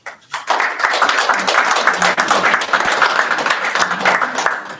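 Mourners at a funeral service break into applause after a short pause, a full, steady round of clapping from the gathered audience that continues evenly to the end.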